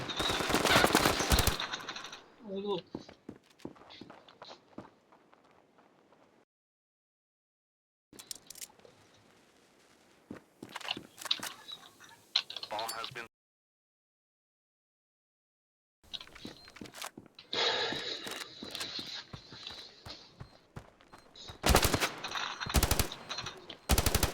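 Automatic gunfire in the mobile shooter Standoff 2, with bullets passing through water: sharp bursts at the start and end and softer scattered rattling and splashy patter between, separated by stretches of silence.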